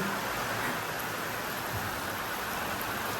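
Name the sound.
heavy rain pouring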